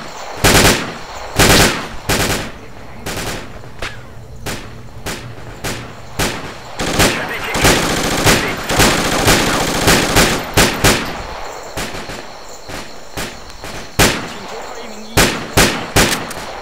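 Machine gun fire in the military shooter Project Reality, loud sustained bursts with dense rapid rattling stretches and short pauses, mixed with other distant gunfire.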